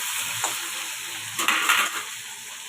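Tomatoes drop into overheated oil and hiss with a bright, steady sizzle. The sizzle swells in a louder burst midway, and soft stirring knocks come and go in the background, with no voices.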